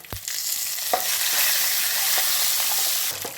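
Curry leaves and chana dal crackle in hot oil for a tempering, a loud continuous sizzle up close with a few sharp pops and occasional clinks of a spoon stirring through the pan.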